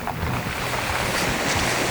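Cold winter sea on the Crimean coast between Alushta and Sudak washes up close to shore in a steady, loud broadband rush of waves with wind buffeting the microphone, continuous for the whole stretch and with no voices.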